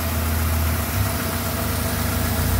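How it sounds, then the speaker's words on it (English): A 2001 Chevy S10 LS pickup with a 2.2 engine and automatic transmission idles close by, giving a steady, even low rumble with a faint vibrating hum and no voices over it. "Here you can listen to the engine, sounds pretty good."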